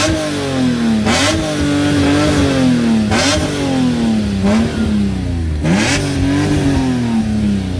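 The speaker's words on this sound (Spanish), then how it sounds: "ahora que está caliente le podemos meter un acelerón" A BMW M3 engine, warmed up and in neutral, revs hard three times in repeated sharp blips over a loud, steady idle, close to the car with rain falling.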